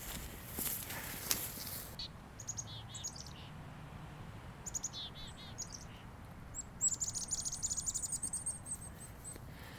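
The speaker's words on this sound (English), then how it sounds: "I've just been inundated with chickadees here. About 15 of them have flown in to say hello." Chickadees in a snowy swamp give scattered high chirps and calls, several birds nearby with the loudest burst late on, over a soft background hiss and occasional footsteps in snow.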